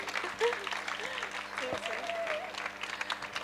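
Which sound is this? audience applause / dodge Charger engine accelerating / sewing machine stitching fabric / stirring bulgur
audience applause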